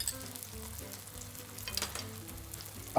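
E-fu noodles stir-fry with oyster sauce over high heat, producing a continuous loud sizzle and crackle with soft scraping as the noodles are tossed, close up and without speech.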